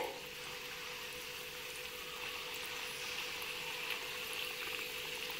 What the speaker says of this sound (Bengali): এবার আমি একটা করে সিঙ্গাড়া তেলের মধ্যে ছেড়ে দিচ্ছি